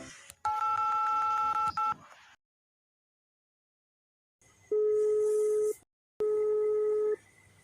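Telephone keypad dialing beeps ring out as a rapid run of short tones, then a pause, then two longer separate tones after a gap, loud and close, with faint voices around them.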